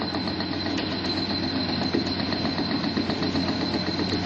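A heavy reverse circulation drilling machine, set on steel plates over waterlogged ground and drilling into soft rock. Its engine runs as a constant loud, rumbling drone with a high whine on top.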